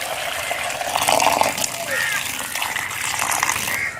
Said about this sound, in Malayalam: ഇനി നമുക്കിതിലേക്ക് കുറച്ച് അത്യാവശ്യം വെള്ളം ഒഴിച്ച് കൊടുക്കാം